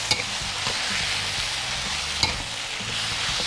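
Fried catfish is stir-fried in curry paste, giving a loud continuous sizzle close by, with spatula scrapes against the pan and a couple of sharper clatters.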